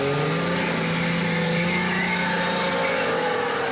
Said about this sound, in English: That was Evinrude's own rotary engine.